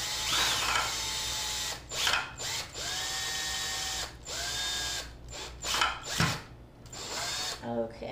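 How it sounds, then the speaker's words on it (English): A power drill bit bores through a craft tumbler in repeated whining bursts, each separated by brief pauses, loud and close. "So we're just drilling through here."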